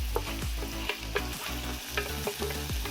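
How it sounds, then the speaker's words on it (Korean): Onions sautéing in a pot with butter and minced garlic, a steady close sizzle with repeated stirring scrapes and clacks in a loose rhythm, no talk. "양파를 넣어서 볶아주시고요"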